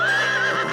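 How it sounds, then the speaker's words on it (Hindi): A horse's short, loud whinny rises and wavers close by in a single tonal call lasting under a second. "ओए सुल्तान शेख अजीबुद्दीन का घोड़ा था।"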